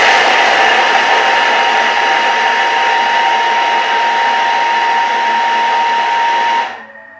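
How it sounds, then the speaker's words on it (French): A Thermomix blends strawberry-lemon tart ingredients with sugar at speed 6, giving a loud, steady high-pitched whirring drone that holds for about seven seconds and then cuts off. "On va mixer ça donc avec le sucre. Et là, pendant 8 secondes, vitesse 6."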